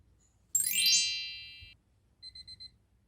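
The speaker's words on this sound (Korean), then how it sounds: "이어폰 자체에서 지금 삐비비빅 삐비비빅 소리를 내고 있어요." A short burst of bright electronic chirping, then four quick high-pitched beeps in a row from a Bluetooth earphone in locator mode under a blanket, fairly faint in a quiet room.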